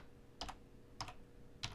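Three short, close bursts of computer keyboard typing, each a quick cluster of keystrokes, separated by brief pauses in a quiet room.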